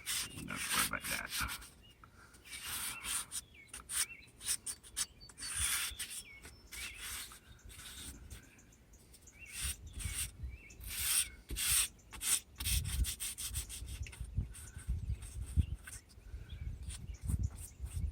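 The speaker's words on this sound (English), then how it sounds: "sometimes you want to hand sand it, like on that top edge" Rough, rhythmic scraping strokes from hand sanding a rotted wooden window frame, close and fairly quiet, coming in irregular bursts with short pauses between passes.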